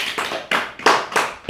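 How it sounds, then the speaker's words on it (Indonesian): A classroom of students claps for a group after their discussion, several loud hand claps in a brisk uneven rhythm, close and with no talk. "Jadi kita semua beri aplaus lagi"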